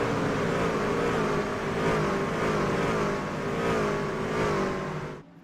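NASCAR race cars in a racing video game at Atlanta roar steadily from a fixed trackside camera, a dense continuous engine drone with gradual pitch sweeps as the field passes, loud and without talk, cutting off abruptly at the end.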